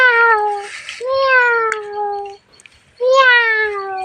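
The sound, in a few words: children imitating a cat's meow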